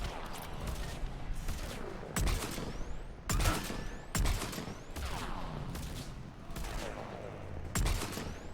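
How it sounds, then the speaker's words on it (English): Repeated bursts of gunfire in a video game, sharp loud volleys arriving every second or so with rattling, echoing tails and a steady hum of game sound between them. "Who's shooting?"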